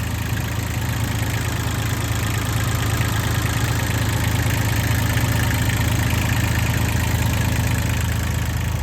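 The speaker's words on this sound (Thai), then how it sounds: "ตัวนี้จะเป็นเครื่องยนต์คูบต้าสามสูบค่ะ" A Kubota three-cylinder diesel engine on a Sakai TG25 road roller idles steadily and close by, a loud, even low rumble with a constant knocking beat throughout.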